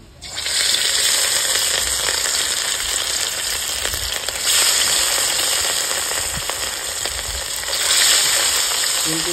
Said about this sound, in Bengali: তেল গরম হয়ে গেছে, মাছটা দিয়ে দিচ্ছি ভাজার জন্য।